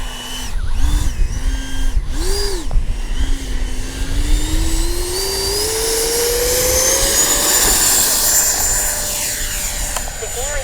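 Freewing 90mm J-10 RC jet on a speed run, a loud electric ducted-fan whine that rises steadily in pitch as the model accelerates and passes, over wind noise and an earlier warbling tone.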